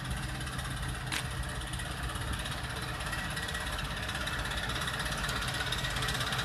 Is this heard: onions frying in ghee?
no